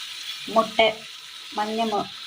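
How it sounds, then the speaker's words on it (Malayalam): Curry being stirred in a pan in two short bursts of squeaky, scraping strokes over a soft, constant sizzle, heard close up. "നന്നായി ഒന്ന് ഇളക്കി കൊടുക്കാം."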